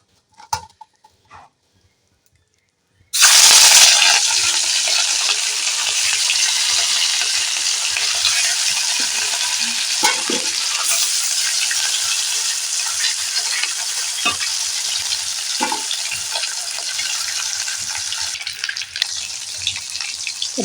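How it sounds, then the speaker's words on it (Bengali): Pieces of rohu fish dropped into hot oil burst into loud, close sizzling after a few seconds of near silence and a couple of faint knocks, then a steady crackling fry continues with occasional pops and spatters. "তেলটা হয়ে গেছে আমি মাছ এবার দিয়ে দেবো"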